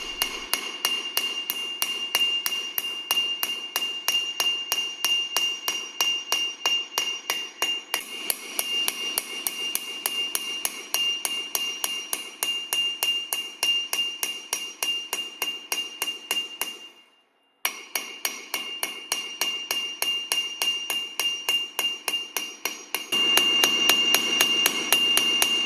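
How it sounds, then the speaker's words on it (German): Rapid, regular metallic hammer blows from a curving hammer shaping a sheet metal strip ring out one after another for a long stretch, briefly pausing once before the steady tapping resumes. "Der Blechstreifen wird nur auf einer Seite geschweift, und zwar auf der gegenüberliegenden Seite zur Rundung."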